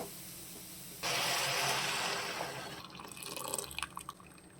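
Milk poured onto half a kilo of grated carrots for homemade carrot halwa, a sudden close splashing pour that starts after a quiet second, runs steadily, then breaks into fainter drips and trickles.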